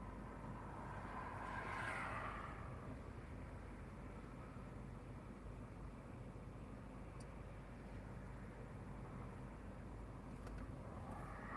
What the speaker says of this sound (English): we're quite close to a road and there's quite a bit of traffic noise